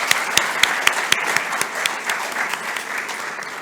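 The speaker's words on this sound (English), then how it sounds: "I think we should give a big round of applause for them." A conference audience gives a round of applause at a valedictory function, dense steady clapping from a large crowd close by, no voices.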